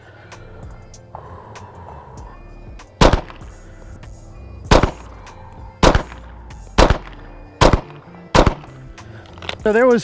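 Several loud, sharp HK VP9 pistol shots ring out at a range, spaced about a second apart after a spoken lead-in, with a person talking in between.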